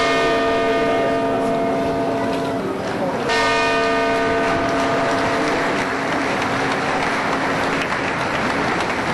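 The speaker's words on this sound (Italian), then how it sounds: "la campana della torre civica rievoca con i suoi rintocchi i 7 minuti che hanno sconvolto" Civic tower bell in Treviso tolling with long, ringing harmonic tones that sustain and decay, one fresh strike about a third of the way in, heard over outdoor crowd and street noise in a town square.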